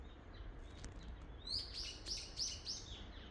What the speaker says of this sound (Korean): 오늘 하루도 이러한 밝고 기쁜 새들의 소리를 벗삼아서